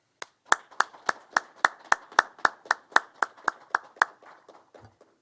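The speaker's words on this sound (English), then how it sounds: "Let us give our graduating class a round of applause." A small group at a police academy graduation claps in unison, about fifteen sharp, evenly spaced claps that fade out toward the end.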